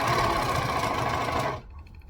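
An overlocker serging the crooked fabric edges of a sleeve for a New Look 6378 garment runs in a loud, steady whir for about a second and a half, then stops abruptly, leaving only faint room sound.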